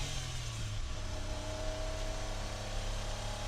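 A 1990 Honda Acty 4x4 small engine runs at full throttle while driving, a steady mid-pitched drone with a low rumble, held constant and fairly quiet over a few seconds.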